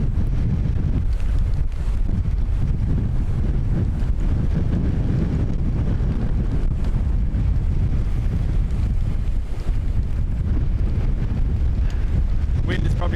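Strong gusty wind buffets the microphone at Dublin Airport, a constant loud low roar and rumble filling the whole stretch without letup.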